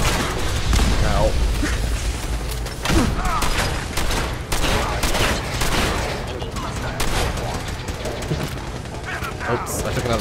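Energy weapon shots in Fallout 4, a dense run of loud sharp zaps and bursts mixed with crashes and impacts, while a voice talks over the fighting.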